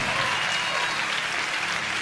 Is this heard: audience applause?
yes